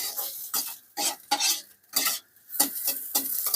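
Bread pieces being stirred as they fry to a light reddish colour in a pan, giving bursts of scraping and clinking from a utensil with soft sizzling, close and fairly quiet, no talking.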